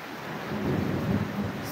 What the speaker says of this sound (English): that sound that comes after the lightning